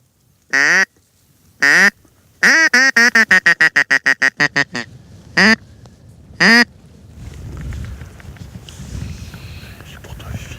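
Ducks on a marsh quack in loud bursts, several single calls and then a fast rhythmic run of quacks from a caller imitating them, before fading into quiet outdoor ambience with soft whispering.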